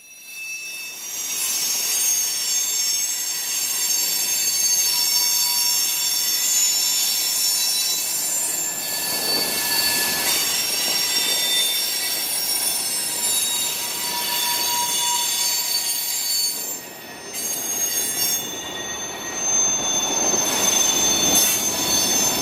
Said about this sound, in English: This train usually has a variety of hoppers, including lots of green Burlington Northern hoppers.